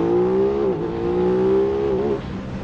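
An Aprilia RS660 sport motorcycle engine revs hard while accelerating, a steady, tuneful high-pitched drone that rises, dips briefly at a gear change, then climbs again, heard close and continuous.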